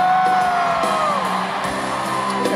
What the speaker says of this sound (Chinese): 这时候部长要来点尖叫声